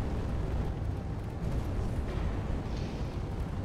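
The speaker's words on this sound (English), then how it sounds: "Oh god, you've exploded." A loud, sustained roaring rumble fills the scene in Space Engineers as a craft explodes, a dense continuous blast with no clear breaks and no voices.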